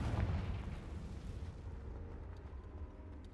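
A Confringo explosion spell bursts in the Hogwarts Legacy video game, a loud low boom at the start that rolls into a rumbling, crackling decay, with no talk.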